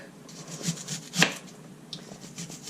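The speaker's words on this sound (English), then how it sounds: "I'm going to cut these into rounds, about a 1/4 inch thick" Kitchen knife slicing onions into quarter-inch rounds on a cutting board: a few soft scraping cuts with one sharper chop in the middle, close and quiet, with no talking.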